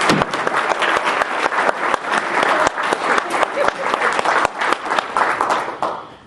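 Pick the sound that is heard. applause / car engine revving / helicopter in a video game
applause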